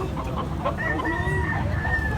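Roosters and chickens at a chicken market in Carbon, Cebu cluck and crow close by over a busy crowd murmur.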